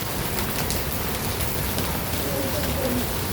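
Fairly heavy rain falling steadily outdoors near a Buddhist temple in Singapore, an even, dense hiss of drops on surfaces with no talking.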